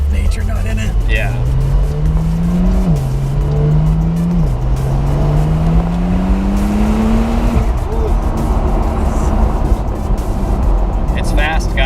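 A 2020 Porsche 911 992 Cabriolet accelerates at about quarter throttle, its engine note climbing steadily with two brief drops at gear changes, loud and close over wind and road noise, with voices talking faintly underneath.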